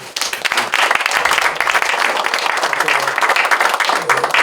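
A church congregation claps in sustained applause at a pastor's installation service on Ijak Island, dense and steady throughout with no talk over it.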